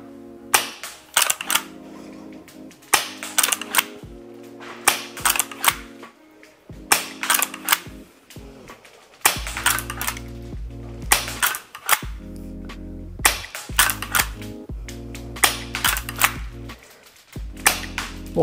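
G&G LEV AR7 gas blowback airsoft gun fitted with a long magazine firing in repeated short bursts of sharp mechanical cracks and bolt clacks, separated by brief pauses, loud and close.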